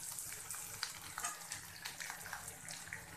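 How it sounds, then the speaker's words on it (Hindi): Onions fry in a pan on a gas stove for a simple Indian lunch of chana dal with lauki, giving a steady dense sizzle with faint crackles throughout and no speech. "प्याज को हल्का सुनहरा भून लें, अभी गैस का फ्लेम मीडियम हाई पे कर लें और इसको सुनहरा होने तक भूनें।"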